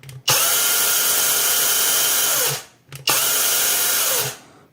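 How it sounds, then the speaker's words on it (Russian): IRON WARRIOR LS-006 cordless chainsaw with a 12-inch bar, triggered twice: each burst spins up sharply into a loud steady high-pitched whine for about two seconds, then winds down, close to the microphone. "Нажимаем блокировку, разблокируем и пускаем нашу пилу."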